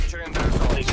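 Uzi bursts in Black Ops Cold War, a short, loud, rapid rattle of close submachine gun fire lasting under a second, with a voice briefly audible behind it.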